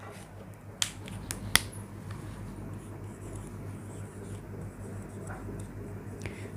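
A pen writes out a dental formula during a class lesson, with faint scratching and a few sharp taps over a low steady hum and no speech.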